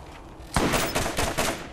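Gunfire from a gun in the video game Borderlands, a loud close burst of rapid, pulsing shots that keeps going for over a second after a quiet start, with no voices.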